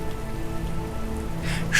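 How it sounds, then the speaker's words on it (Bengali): Steady rain falls in a continuous, even patter on surfaces, close and unbroken, with a brief brighter splash near the end. "বৃষ্টি অবিরাম ধারায় একই রকম পড়ছে কমেও নি বাড়েও নি"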